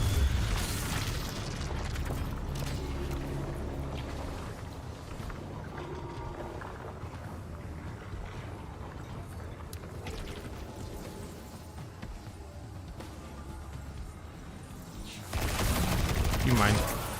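Gunfire from a weapon in Destiny 2, with bursts and booming shots close by, a heavy burst at the start and another loud burst near the end, fainter shooting and effects between them.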